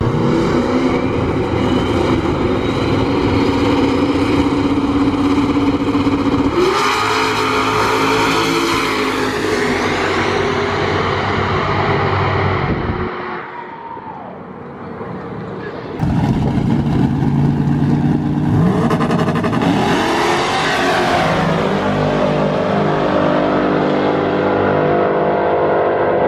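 Race cars at a no prep shootout drag event rev and roar loudly, engines climbing in pitch as they accelerate, dropping briefly before another car blasts off nearby.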